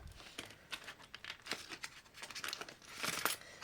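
Paper rustling and crinkling as cash is slipped into a paper budget envelope, soft and close with irregular crisp bursts that grow a little louder near the end.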